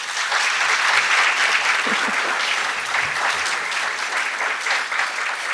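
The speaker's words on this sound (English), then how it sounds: "give them the round of applause that they deserve" Audience applause fills a graduation hooding ceremony for Doctor of Nursing Practice graduates, a steady, dense wash of many hands clapping without pause for several seconds, loud and close, with no talk over it.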